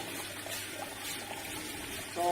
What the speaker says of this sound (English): I'll just be pouring this into bottle number 2